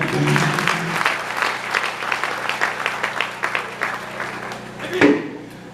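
A church congregation applauding in rhythmic, energetic claps during a sermon, rising and falling before a final louder burst as the clapping fades out.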